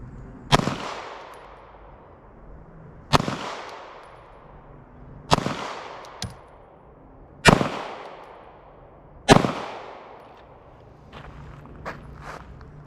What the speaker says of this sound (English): now we're gonna try a 5-shot group.